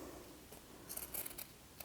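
Scissors cut fabric for a bunny-ear Easter bag: a few quiet, quick snips in an irregular cluster, with no talk over them.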